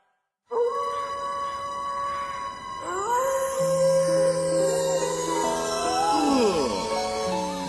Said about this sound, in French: Quoi de plus romantique que les hurlements des loups-garous?